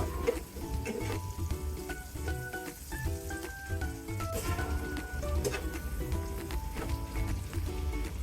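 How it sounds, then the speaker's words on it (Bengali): Chopped onion with salt frying in a pan, a steady dense sizzle with scattered crackles and a faint musical tone running throughout, fairly loud and continuous with no talking. "এক মিনিটের মতো পেঁয়াজটা আমি ভেজে নেব"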